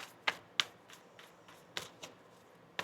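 Crisp snapping sounds of a tarot deck being shuffled, several sharp slaps spaced irregularly with softer riffling between, close by and fairly quiet, no talking.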